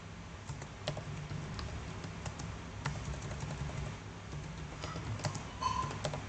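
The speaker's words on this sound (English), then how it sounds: "Just I'm typing string space." A computer keyboard typing out a SQL query in code: faint, uneven key clicks spread across several seconds over low room noise, with no voice.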